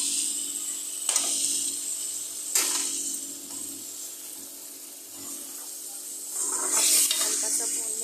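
Potatoes coated in tamarind paste being lightly fried and stirred in a pan, with soft sizzling under scraping strokes of a spoon that come in several separate bursts, louder near the end.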